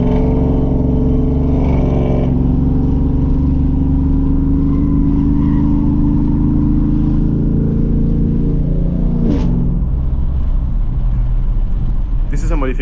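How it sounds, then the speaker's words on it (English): A Chevrolet Silverado pickup fitted with AFP motor mounts idles steadily and loudly up close, its low engine drone continuous throughout, with a brief rise near the end. "when the truck is warming up and when the truck is at idle"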